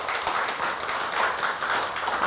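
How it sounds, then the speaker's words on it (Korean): A Korean church congregation gives a sustained round of applause, a dense, even wash of many hands clapping at close range that carries on without a break. "정말 감사와 응원의 박수"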